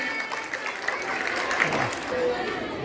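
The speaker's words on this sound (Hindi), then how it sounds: "सपना कुमारी के लिए एक जोरदार ताली होना चाहिए" Students at a general knowledge quiz session give a round of clapping for a participant, a continuous patter of many hands under murmuring voices.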